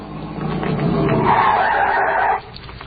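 A radio-drama car brakes to a stop at a traffic signal, a single tire-squealing skid that swells and cuts off abruptly, loud and close, followed by quiet.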